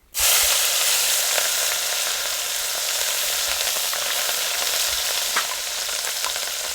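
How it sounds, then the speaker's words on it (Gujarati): Green chili pieces with a pinch of asafoetida frying in hot oil, a loud, steady sizzle that bursts in abruptly and holds for several seconds, with faint crackles and pops and no voices. "આપણે જો તેલ ગરમ થઈ ગયું છે આ હિંગ જરાક નાખી દઈએ અને હવે નાખી દઈએ આપણે આ લીલા મરસાના કટકા"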